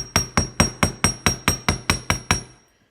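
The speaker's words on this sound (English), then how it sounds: "and we're just going to hammer." Eleven sharp, evenly spaced metallic taps of a hammer on copper wire ring out in a quick steady rhythm, close and clear, then stop into silence.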